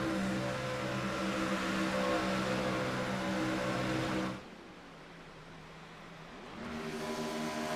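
IROC race cars coasting off throttle in Chicago pass with a smooth, whooshing engine drone rather than a roar, dipping quieter for a couple of seconds before another car approaches.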